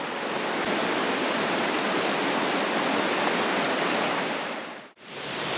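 Artificial waterfall at a river weir on the Svicha roars as a dense, steady wash of falling water, close and even, with a brief dropout near the end and no talking.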